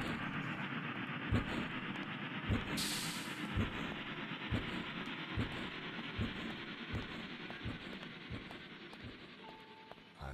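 A train at a station rumbles along steadily, with regular clickety-clack wheel beats roughly every second over a low continuous rolling noise, fairly faint and distant.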